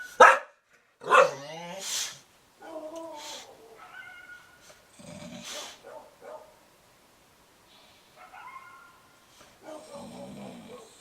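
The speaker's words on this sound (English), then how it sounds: "we got Clyde outside barking at him, Sissy barking at him in the house." Dogs bark and yelp in short bursts, with whining and howl-like calls between, fairly close with quiet gaps in between; one dog outside, another inside a house.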